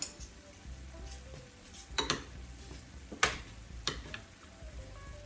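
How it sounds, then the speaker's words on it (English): A spoon clinks and scrapes against a bowl while ricotta, egg and Parmesan are mixed together, sharp taps spaced irregularly over soft wet stirring, quiet and close. "So I'm just mixing up that ricotta cheese, an egg, Parmesan cheese"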